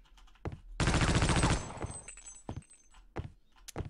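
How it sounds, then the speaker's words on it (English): Machine gun fire in Half-Life: Opposing Force arrives as a loud, dense automatic burst lasting under a second, bracketed by scattered thuds, clanks and footstep-like impacts from the game. "That was a pretty good machine gun boost."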